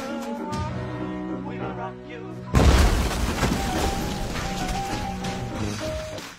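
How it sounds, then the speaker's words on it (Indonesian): After a stretch of talk over music, a bomb explosion erupts in a sudden loud blast and crash, followed by rumbling debris and a dramatic score continuing underneath. "Suara ledakan"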